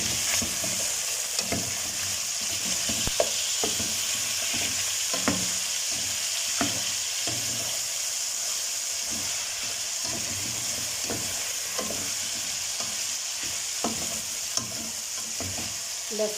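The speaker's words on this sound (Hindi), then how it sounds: "लहसुन को मिक्स कर दूंगी" Garlic sizzles steadily in hot oil in a pan for a chicken white karahi, with a constant frying hiss and regular scraping taps of a spoon stirring it throughout.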